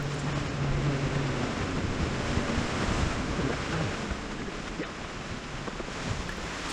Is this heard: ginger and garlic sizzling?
no